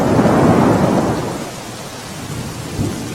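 Heavy rain pours down on Girnar mountain near Junagadh as thunder rolls loudly, a dense hiss of downpour with a deep rumbling swell at the start that fades, then another faint rumble near the end.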